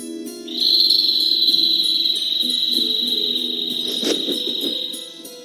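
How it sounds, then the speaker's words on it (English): A single bird call in a desert from Tales of Vesperia, a sustained high, steady whistle-like tone holding for several seconds over a low ambient hum, with a brief rustle near the end. "A bird? In this desert? It sounds close."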